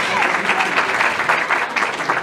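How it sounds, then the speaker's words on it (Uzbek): An audience claps steadily at an Uzbek Language Day celebration in Hamburg, a dense, even burst of many hands that lasts the whole moment without pause. "Qarsaklaringiz bilan"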